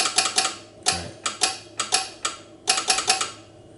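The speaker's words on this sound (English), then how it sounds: "Dot, dot, dot. Dash, dash, dash, dot, dot, dot. That sounds like this." SOS tapped on a telegraph key comes through as sharp, close clicks in three short groups: quick taps, a spaced set of longer strokes, then quick taps again, with no voices.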